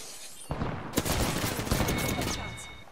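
Rapid gunfire bursts in the battle royale game Apex Legends, loud and close, starting around half a second in with dense overlapping shots and echoing tails that fade toward the end.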